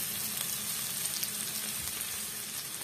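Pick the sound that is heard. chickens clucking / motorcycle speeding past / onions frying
onions frying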